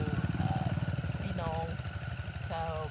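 An engine-driven pump draining a natural fish pond in rural northeastern Thailand, its steady mid-pitched putter running throughout, with chirping calls over it.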